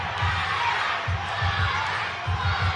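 Crowd at a boxing rematch between Vikram Prashar and Tyler Tirva in St. Thomas, a steady broad roar of cheering with a few dull low thumps mixed in, continuous through the whole stretch.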